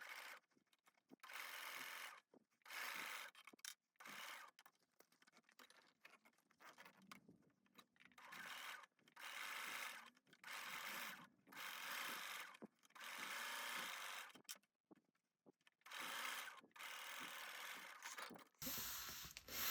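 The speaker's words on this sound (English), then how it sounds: "we're going to sew with 1/4 of an inch seam allowance all the way along that edge" A sewing machine stitches a quarter-inch seam along the edge of a bowler bag, running in repeated loud bursts separated by short pauses, with nobody speaking.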